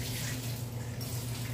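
Water runs steadily from a tap into a container, a constant splashing flow close by while making salted eggs, with no speech.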